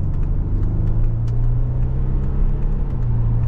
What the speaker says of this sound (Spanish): coche acelera fenomenal